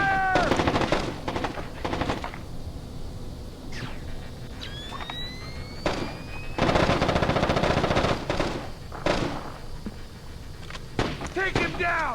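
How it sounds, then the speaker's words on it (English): Gunfire from the stealth video game Splinter Cell: Chaos Theory on PS2, in a bathhouse level: loud bursts of automatic fire in several clusters, with sharp single shots between them and a voice heard partway through. "Back up! I'm taking fire!"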